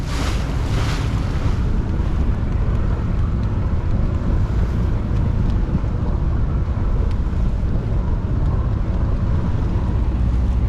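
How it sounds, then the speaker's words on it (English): A sailing boat crashes through rough sea waves in strong wind on a coastal passage from the Medway toward the Solent, with steady loud wind buffeting and water rushing against the hull throughout, no voices. "The boat's crashing a little bit, but we're making reasonable progress."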